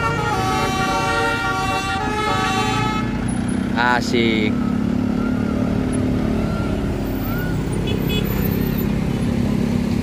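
Diamond Jet buses pull slowly out of a parking lot, engines rumbling steadily with a brief horn toot partway through, while someone talks over the traffic.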